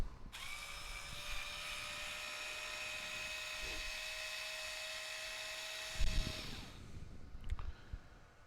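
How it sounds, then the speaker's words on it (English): A screwdriver backs screws out of a Traxxas TRX4 rear axle, giving a steady, close whirring whine for about six seconds before it stops and a few light clicks and handling knocks follow. "we come back in with our trusty screwdriver"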